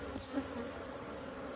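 Honey bees buzz softly around an open hive during a summer inspection, a faint, continuous insect drone with a couple of louder passes as individual bees fly close.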